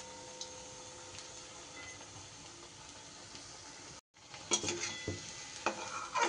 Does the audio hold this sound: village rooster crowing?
no